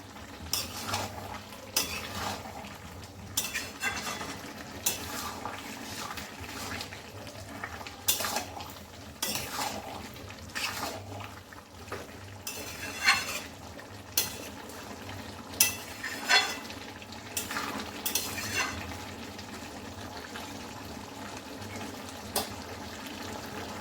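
A spoon scrapes and clatters around a pan of jackfruit and prawn curry with ghee and sugar, in repeated stirring strokes over a soft low sizzle, fairly quiet overall.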